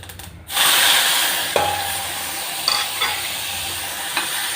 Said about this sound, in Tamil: இதை போட்டு நல்லா வதக்கிக்கலாம்.